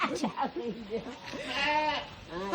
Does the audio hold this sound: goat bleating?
yes